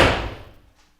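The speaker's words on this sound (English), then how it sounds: "You can shut the door." A bedroom door in a tiny home is shut with a single solid thud that rings briefly and fades out within about half a second, close by, with no talk.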